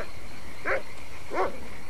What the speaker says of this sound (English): You'd all bet that dog's got himself a raccoon.